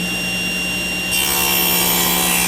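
A hand saw cutting through the edge of a wooden board in a woodworking shop, a steady, dense rasping stroke that grows slightly louder partway through, with no talking.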